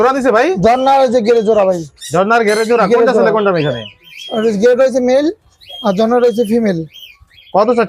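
Parrots and cockatiels at a bird market in Bangladesh give loud, harsh squawks and screeches close by, in several long bursts separated by short pauses.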